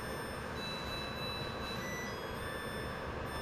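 A washing machine alarm beeps in steady, high, sustained tones that keep sounding over a constant low background hum, loud and persistent.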